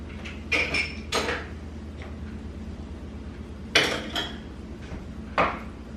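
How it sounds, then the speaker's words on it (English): Utensils knock and clatter against a saucepan as keto barbecue sauce is stirred, a handful of sharp scattered clinks over a low steady background hum, close by and with no speech. "Now I'm just going to take this and I'm just going to mix this up in my saucepan"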